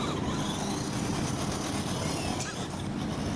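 An FMS Ford F100 1/10-scale RC monster truck spins a donut outdoors, its electric motor and tires making a steady, busy whir and scrub that dips briefly near the end.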